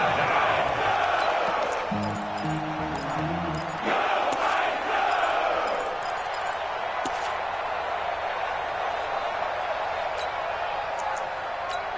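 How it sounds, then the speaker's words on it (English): Video game stadium crowd at an American football match, a steady loud roar of cheering that swells toward a big third down, with a brief chanting burst early and faint clicks under it. "the crowd getting into it as we come up on a big 3rd down"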